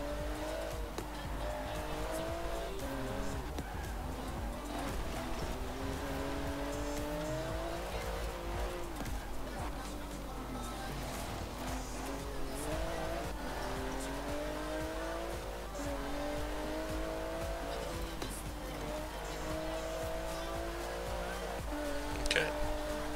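Continuous engine drone with shifting harmonic pitch as the car revs and changes gear in Forza Horizon 4, with intermittent tire squeal and skidding through corners on a custom coastal lighthouse loop route, steady and loud throughout with no talk.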